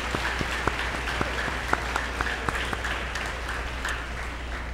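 A crowd at a school promotion ceremony applauds with steady, dense clapping and a few sharper claps standing out, sustained throughout at moderate volume.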